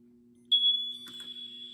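Hardwired interconnected mini smoke alarm going off, a single sharp piercing high tone that starts abruptly and holds steady over a low electrical hum, with a brief clunk midway.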